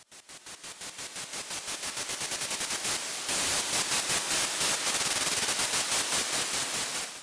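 Waldorf Nave synth pad on iPad, its level chopped on and off by a square-wave LFO into a fast, even pulse of bright, noisy bursts that speeds up slightly midway, loud and alone.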